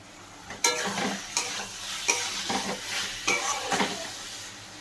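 Potatoes for dhoka dalna sizzle and fry in a hot pan, with a spatula stirring in repeated scraping strokes roughly every half second to second, close and loud.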